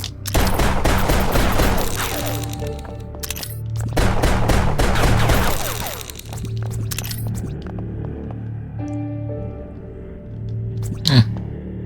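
Rapid-fire special gunfire in a video game: two dense bursts of fast repeated shots over a low hum, then a quieter tail with a brief sharp blast near the end.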